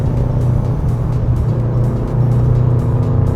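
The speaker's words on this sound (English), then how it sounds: "rowing through the gears in this car, such a pleasure" A Subaru Prodrive's engine droning loudly from inside the cabin, holding a steady low rumble with slight shifts in pitch as it shifts through gears driving up a mountain pass.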